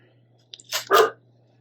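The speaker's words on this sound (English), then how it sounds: "And I don't know what she's barking at" A dog barks indoors in a quiet room, giving a short burst of two or three close barks over a faint steady hum.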